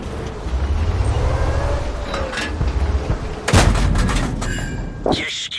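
World of Tanks battle in a Skoda T 24 tank destroyer: heavy cannon shots and shell hits boom out, with a loud impact near the middle and another sharp crack near the end, over continuous engine rumble.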